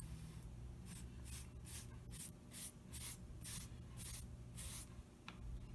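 Paint sprays onto a crib in a first coat, heard as a series of short hissing bursts, about ten in an even rhythm, close by and fairly quiet, with no talking.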